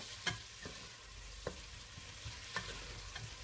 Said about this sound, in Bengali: এবারে পেঁয়াজটা কিছুক্ষণ ভেজে নেব